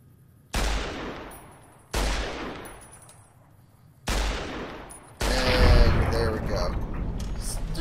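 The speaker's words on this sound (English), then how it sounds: "just wanted to practice my shooting a bit on that" Gunfire from Fallout: New Vegas, with three sharp, loud single shots at even intervals, each ringing out into a long decaying echo, then a sustained burst of overlapping shots and clatter.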